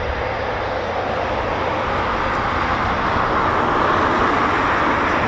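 A Eurofighter Typhoon FGR4 jet at RAF Coningsby gives a steady, loud, broadband roar that swells slightly toward the end, with no voices over it.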